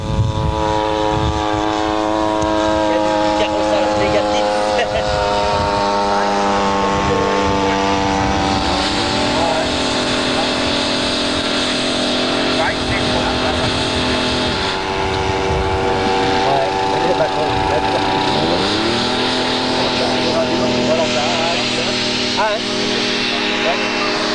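Steady, loud drone of a large radio-controlled model airplane engine with a 2.50 m wingspan taking off at a 1981 model flying meeting in Yverdon. The pitch shifts as it climbs, and voices talk over it throughout.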